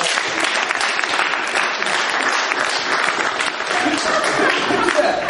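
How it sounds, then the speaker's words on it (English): Sustained applause from an audience filling the room, dense and steady clapping throughout, loud and continuous with some crowd noise mixed in. "You should give yourselves a round of applause."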